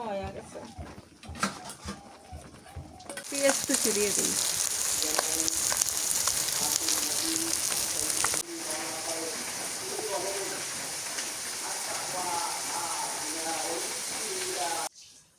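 Onions hit hot oil and fry with a steady, loud broadband sizzle that runs from about three seconds in to the end, while voices talk over it throughout.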